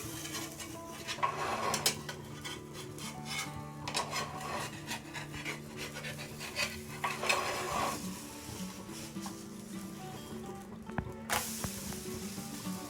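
A metal spatula scrapes and taps around the edges of a rava dosa on a pan over medium gas, producing irregular rasping strokes and clinks, close and moderately quiet, with no voices.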